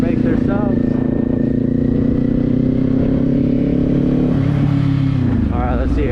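Motorcycle riding in cold weather, a loud steady engine drone with rising and falling pitch as it shifts and slows, heard close up with wind rush throughout.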